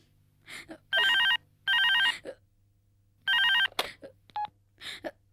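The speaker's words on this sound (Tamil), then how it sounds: "அங்க போன் அடிக்குது, நான் போய் எடுக்கிறேன்" A telephone rings in short electronic trilling bursts, three clear rings with pauses between them, indoors amid faint movement and a brief voice.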